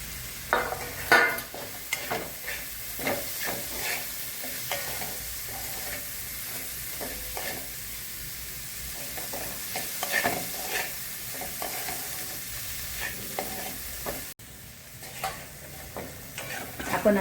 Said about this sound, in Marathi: वाटाणे हे भाजून अशी डाळ पाडून घेतलेली अर्धवट चटणीसाठी, तोही आता परतून घेणार आहे छान